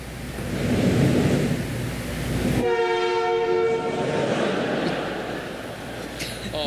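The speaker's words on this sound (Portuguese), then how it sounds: "passa um trem próximo ali à quadra onde estava sendo realizado e, por coincidência, o trem buzinou nos 2 momentos do saque" A train horn blares near a tennis court, starting as a loud sustained tonal blast partway through over rumbling rail noise, then fading back into a broad roar with faint later honks.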